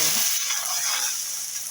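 Tempering crackles and sizzles in a hot pan with chilli powder, a steady bright hiss with small pops, close and loud, heard alone.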